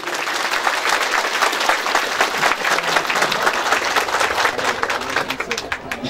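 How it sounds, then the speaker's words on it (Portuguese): A crowd at a tractor handover ceremony applauds in a dense, sustained burst of clapping that fills the whole stretch, with some voices mixed in beneath it. "Vamos aplaudir!"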